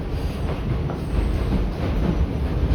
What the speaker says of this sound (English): this D train is on the F line